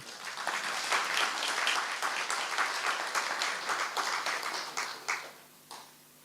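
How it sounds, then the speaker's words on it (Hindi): A room full of listeners at a spiritual class at Pandav Bhawan claps together in a steady, dense patter that thins and trails off near the end. "तालियां तो बजाओ जरा।"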